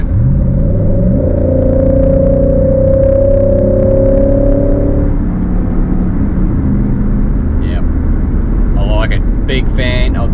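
A Nissan Y62 Patrol with a Torqit cat-back exhaust and throttle controller accelerates from 80 to 100 km/h in cruise mode, its engine drone climbing in pitch for several seconds, then settling into a steady road rumble, with a voice over it.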